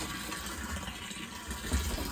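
Water pours steadily into a container outdoors in a rural Maharashtra setting, a soft continuous gurgling rush with a slight surge near the end.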